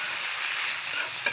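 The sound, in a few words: stirring raw mango pickle with vinegar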